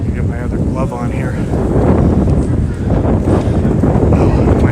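Wind buffets a microphone on a street at Niagara Falls, Canada, near Clifton Hill, a loud constant low rumble filling the whole stretch, with a voice faintly present underneath.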